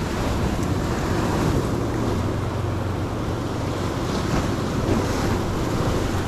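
Steady roar of ocean surf on the coast at Casiguran, Aurora, Philippines, with wind buffeting the microphone, a constant broadband wash throughout with no voices.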